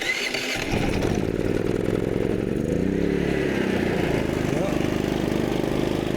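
Predator 3500 inverter generator starting up after a fuel leak repair: a brief cranking burst, then the engine catches and settles into a steady, loud, close running drone.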